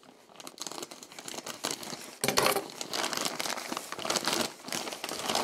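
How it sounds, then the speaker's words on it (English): Someone rips open a mail package by hand, giving sustained crinkling and tearing of plastic or paper. The sound is close and fairly loud, with a sharper tear partway through. "I'll just rip it open."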